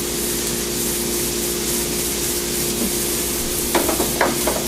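Onions fry in a pan for quarter-pound burgers, giving a steady, close sizzle throughout with a few brief scraping stirs near the end.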